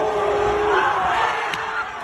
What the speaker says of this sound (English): kids are cheering the suplex